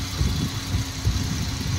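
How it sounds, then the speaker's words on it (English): A Jaguar XJ12's 5.3-liter V12 engine idles with a low, steady rumble and faint rhythmic pulsing, close and alone with no voices. "this is the engine running"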